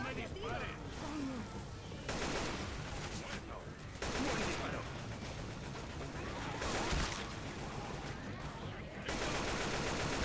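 Gunfire in Left 4 Dead 2 on the Dead Air campaign, dense loud bursts of rapid shooting broken by short pauses, with players' voices talking over it.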